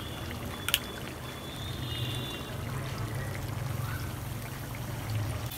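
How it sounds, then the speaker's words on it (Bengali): Radhuni vinegar pours into a sour mango pickle, a soft, continuous liquid trickle and gurgle close by with a single brief clink near the start, fairly quiet and with no talk. "এখন আমি দেবো রাঁধুনি ভিনিগার।"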